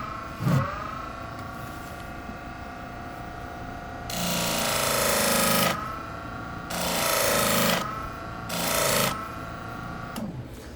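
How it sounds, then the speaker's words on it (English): Blender blade sharpened with a polishing pad on a powered tool, a steady electric motor whine with bursts of loud abrasive grinding as the pad meets the blade, three main passes. "Or you can use a polishing pad."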